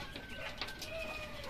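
Laying quail kept in a pen give high chirping calls over a steady background of cheeping and fluttering, a dense flock heard close by.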